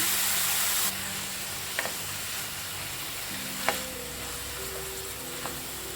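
Tomato and capsicum sizzle and are stirred in a hot pan, a steady close frying hiss broken by a few light scrapes of the spoon.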